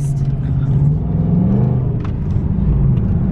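A pickup truck's engine rumbles low and steady from inside the cab while driving, a deep continuous drone with slight pitch rises as it pulls along.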